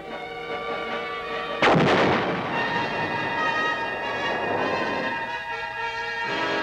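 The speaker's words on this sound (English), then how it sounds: "The big mobile guns continued to do their share in dispersing the enemy." Heavy mobile artillery guns of the 4th Infantry Division in Vietnam fire one loud, sharp blast, and a long rumbling roll with echo follows it, steady and close, over a constant mechanical drone.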